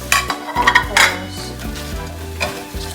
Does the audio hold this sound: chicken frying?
yes